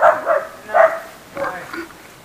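A dog at a memorial park in Bohol gives several barks, moderately loud and spaced apart, mixed with the sound of voices.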